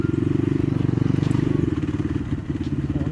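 A Honda CX250R motorcycle rides at a steady pace, its engine thrumming with a fast, even low pulse that stays loud and close throughout.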